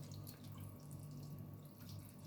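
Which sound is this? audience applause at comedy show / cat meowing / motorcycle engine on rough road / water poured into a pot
water poured into a pot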